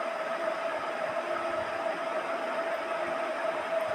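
A sewing machine stitches a straight seam. It gives a steady, fairly faint whirring hum with an even mechanical buzz that continues without a break and without talk.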